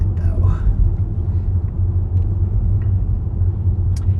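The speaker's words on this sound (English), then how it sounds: "I like to rev the engine because it sounds like a T-Rex." Jeep engine revving during a night cruise, a close, deep throaty rumble that swells and holds steady, with a person talking over it.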